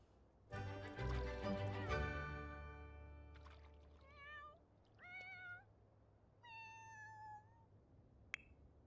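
A cat in The Sims 4 meows several times in succession, a longer drawn-out cry followed by shorter separate mews, fairly clear against a quiet background with no talking.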